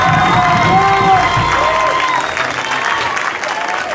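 A loud, dense crowd at a high school football senior night claps and cheers without a break, with shouts and whistles above it, close and sustained throughout.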